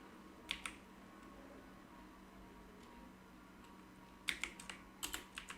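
Quiet clicks of typing on a computer keyboard, a couple of isolated keystrokes early, a pause, then a quick flurry of taps near the end in a hushed room.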